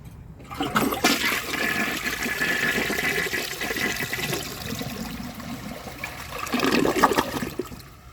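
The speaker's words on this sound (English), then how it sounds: "I'm going to do a clogged siphon jet and see how it flushes like that" A Project Source Pro toilet with a clogged siphon jet flushes in a strong, close rush of water that holds steady for several seconds. It swells again near the end as the bowl refills, with no talking.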